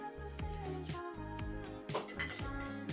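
A stovetop cover gets a quick wash at a kitchen sink, dishes and metal clinking and knocking repeatedly in an uneven rhythm, close and fairly quiet, with soft water and handling noise between the strikes.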